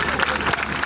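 A brief burst of audience clapping at a church Christmas celebration in Pitlam, a dense, close patter of many hands lasting under a second.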